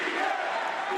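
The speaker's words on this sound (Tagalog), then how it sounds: "Lalo nang umalingaw-ngaw ang sigawan." Crowd shouting and roaring at a political address where an immediate ban on POGOs is announced, a dense sustained wall of voices filling the whole moment.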